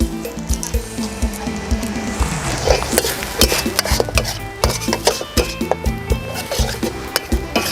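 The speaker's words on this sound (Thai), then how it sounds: "อันนี้ผมก็ค่อยคั่วพริกแกงกับกะทิให้หอมก่อนครับ" Red curry paste toasted with coconut milk in a pan, a dense crackling sizzle with busy rhythmic scraping and clattering of a utensil against the pot throughout, close and loud.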